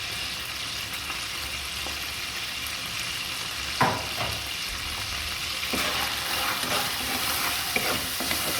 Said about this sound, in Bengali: এখন এই যে পেঁয়াজ দিয়ে দিচ্ছি মোরগ পোলাওর মাংসটা রান্না করার জন্য।